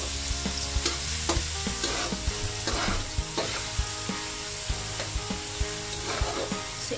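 Carrots are stir-fried in a pan for fried rice. A steady sizzle runs under repeated quick utensil scrapes and taps that come about twice a second, close and fairly loud. No one talks.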